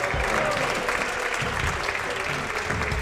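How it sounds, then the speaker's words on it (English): Loud, sustained applause from an audience giving a standing ovation, dense clapping filling the room evenly without a break. "I would like my audience to give a standing ovation right now."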